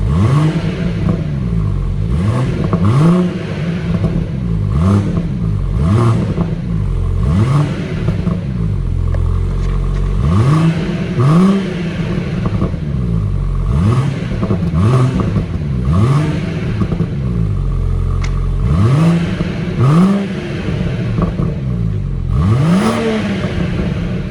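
A BMW M140i engine revs repeatedly in rising and falling blips, loud and close, with a deep throaty sport exhaust burbling between each rev.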